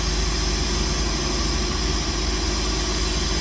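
A Mercruiser Thunderbolt boat engine with a weak spark runs steadily after a hard start, giving a loud, close, continuous rumbling drone with a constant low vibration and no pauses.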